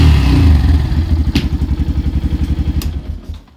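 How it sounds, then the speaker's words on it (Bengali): A serviced Yamaha FZS BS6 motorcycle engine starting, a loud close crank followed by a steady pulsing idle that fades toward the end, with a couple of sharp clicks. "এখন কিন্তু বাইকটা স্টার্ট করব"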